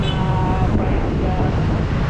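Strong wind roaring across the microphone outside a building at Victoria Plaza, with heavy low-end buffeting, continuous and close, no speech heard.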